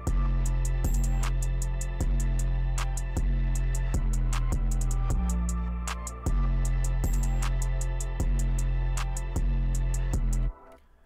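A hip-hop beat built from a deep booming 808 bass, punchy kicks, steady ticking hi-hats and a bright synthesized triangle repeats in a tight loop. It plays loud and continuous for about ten seconds, then stops abruptly.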